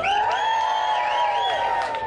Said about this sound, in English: I'd like a bit of a game show style cheer.